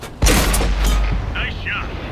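One loud, close tank cannon blast from World of Tanks on PS4 booms out and rolls into a decaying rumble, followed by faint mechanical clanks.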